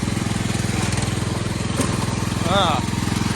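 A junk riding lawn mower's engine drones loudly and steadily as it pulls a load, with a brief voice breaking in near the end.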